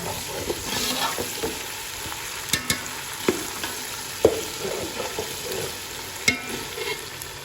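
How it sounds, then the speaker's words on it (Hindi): Steady crackling sizzle of red chilli powder and spices frying in a pan with occasional sharp pops and stirring clicks, close and continuous, no talking. "ये जो मिर्चें डाली थी वो अच्छी तरह से भून चुकी हैं"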